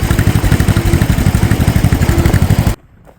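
A 1950 John Deere M tractor engine runs close and loud while planting oats in a field, its steady rapid two-cylinder chugging pulsing evenly before cutting off abruptly.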